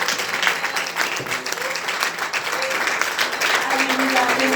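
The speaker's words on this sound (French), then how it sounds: "Est-ce qu'on peut élever une dimension d'acclamation pour le Seigneur Jésus?" Audience at a theological institute launch in a Paris hotel ballroom breaks into sustained applause and acclamation, a dense continuous wash of clapping and cheering that holds steady throughout.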